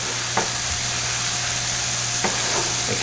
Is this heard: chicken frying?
yes